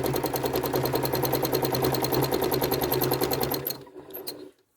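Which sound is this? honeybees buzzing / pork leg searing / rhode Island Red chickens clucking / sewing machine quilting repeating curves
sewing machine quilting repeating curves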